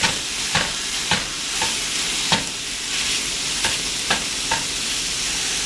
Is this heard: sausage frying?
yes